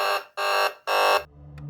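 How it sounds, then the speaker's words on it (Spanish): Buzzer alarm of a 7-segment digital alarm clock module sounding three loud, steady harmonic beeps of about a third of a second each, evenly spaced, then a quiet low hum after the last beep. "Tiene un simpático zumbador como alarma"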